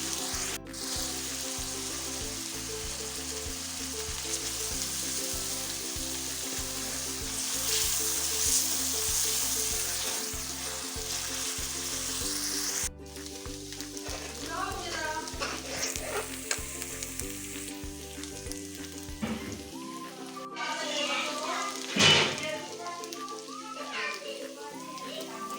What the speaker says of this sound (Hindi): प्याज को तब तक पकाना है जब तक कि अच्छे से गोल्डन ब्राउन ना हो जाए।